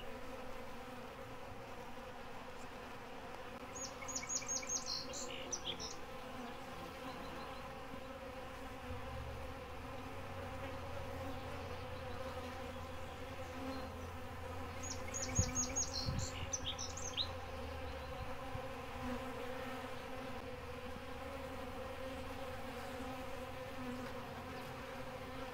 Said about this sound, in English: So the honeybees are king of the feeding station